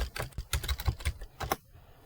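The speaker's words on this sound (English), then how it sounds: "Type the right password." Fingers tapping out a password on a computer keyboard, a quick burst of close, crisp key clicks in an uneven rhythm, ending with a firmer press, with no voices.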